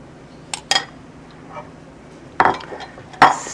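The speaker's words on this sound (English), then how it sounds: "I'll give them a final little whisk." A few separate light clinks of a whisk tapping a bowl of three lightly beaten eggs, spaced out over a few seconds with quiet in between and no talking.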